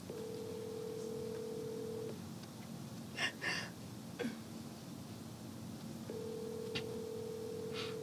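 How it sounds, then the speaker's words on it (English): A telephone rings through a handset during a prank call, two long steady electronic ring tones separated by a pause filled with a few faint clicks and soft movement. "answer the goddamn phone, please"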